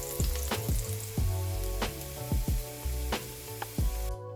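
Garlic sautés in a hot pan, sizzling close and steady with sharp popping crackles as the pieces jump, the frying alone without any voice.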